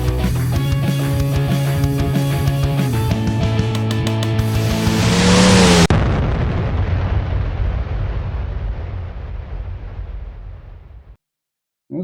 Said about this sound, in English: That was a good firework.